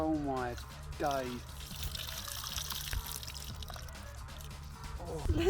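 Grey water drains out of a VW Kombi camper van, a steady liquid trickle and splatter heard under background noise, with a couple of rising whine-like tones near the start.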